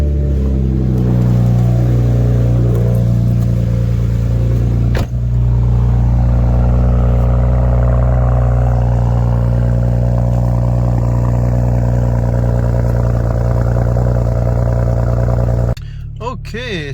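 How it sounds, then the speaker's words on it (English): BMW E90/E92 engine on a cold start, a loud steady rumbling idle with a sharp click partway through, cutting off abruptly near the end, with a person talking briefly. "so that was an attempt at a cold start, relatively quick"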